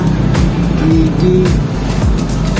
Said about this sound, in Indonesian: Motornya kita hidupkan